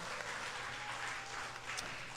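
Audience applause at a school spelling bee fills the hall, a continuous, even wash of clapping from many hands, moderately faint and steady throughout without talk.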